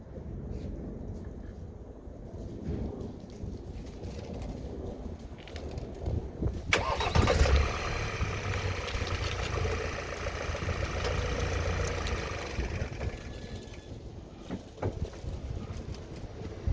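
A Ford Transit Custom van's engine cranks and catches, then settles into a steady idle, heard up close over wind noise with faint background sounds and no clear talk.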